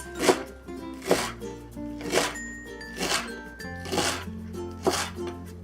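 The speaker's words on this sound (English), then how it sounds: "Next, we'll cut up the cilantro." Knife mincing cilantro on a cutting board, a steady series of sharp chops roughly once per second, close up over a sustained low hum and soft background tones.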